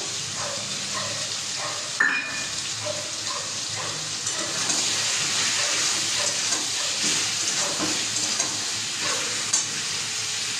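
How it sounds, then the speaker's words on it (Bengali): Fried onions sizzling steadily in a pan as ginger garlic paste is added, a continuous close, loud hiss with occasional stirring scrapes and no talk. "এখানে আমার পেঁয়াজ ভাজা হয়ে গেছে, এবারে আমি আদা রসুন বাটাটা দিয়ে দেবো"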